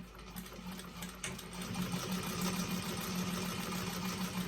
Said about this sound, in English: you're going to top stitch with 1/8 of an inch seam allowance